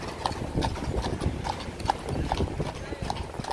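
Horse hooves clip-clopping on a New York City street in the evening, a steady rhythmic series of sharp hoof strikes close by, with city background noise and some talking.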